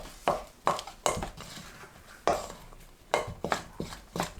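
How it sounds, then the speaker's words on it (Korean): Hot microwaved kabocha squash being mashed with fine salt in a bowl: a series of irregular soft thuds and scrapes of a utensil against the bowl, close and fairly quiet, with short pauses between strokes. "고운 소금 3분의 1큰술 넣고 단호박을 으깨주세요."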